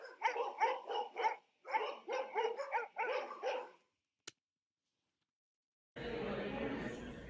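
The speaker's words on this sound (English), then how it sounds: "Release the hounds." Several hounds bark in quick repeated bursts through the first few seconds, loud and close, followed by a brief sharp knock, a pause of silence, and then a rush of broadband noise.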